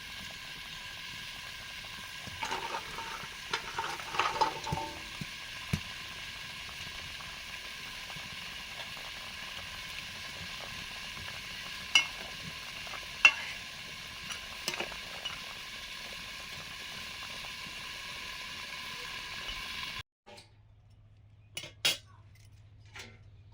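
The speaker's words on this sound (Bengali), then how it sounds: "ঝোল ফুটে গেছে, এবার মাছ বড়ি সব একসঙ্গে দিয়ে দিচ্ছি।" Katla fish and biuli lentil dumplings go into a simmering curry and get stirred, giving faint metal-on-pot scrapes and clinks over a low, steady sizzle, with a few sharper knocks near the end.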